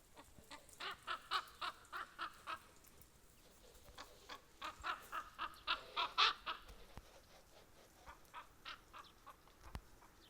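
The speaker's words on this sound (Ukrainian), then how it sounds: "полетіло дві ворони дурних, побилися в повітрі" Repeated harsh caws from several crows in quick bursts as two fight in the air, some loud and close, others farther off, with no talking.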